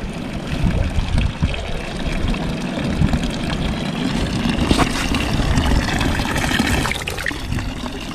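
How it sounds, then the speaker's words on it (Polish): A fresh mountain stream flows steadily outdoors, its broad rushing wash holding an even level throughout with no voices. "Rzeźka, bo to jest strumyk."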